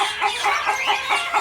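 Agitated chickens cluck in repeated short bursts, a steady run of near, moderately loud calls with no talking over them.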